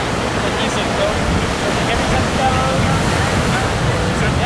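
Surf rolls in at Ho'okipa Beach Park during a paddle sprint race, a continuous close roar of breaking waves mixed with wind buffeting the microphone and muffled voices underneath.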